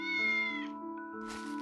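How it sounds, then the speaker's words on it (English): A cat in a video game lets out a long, drawn-out meow with a clear tonal wail, followed by a short breathy tail, heard up close and alone. "Cat remained where it was, still meowing at me"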